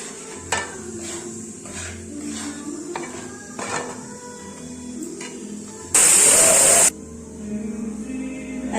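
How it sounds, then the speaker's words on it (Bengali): A spatula scrapes and clinks against a hot wok as samosa potato filling is stirred. The metallic taps are close and irregular, and a short, loud burst of noise cuts in partway through. "খুন্তিতে নেড়ে নিচ্ছি।"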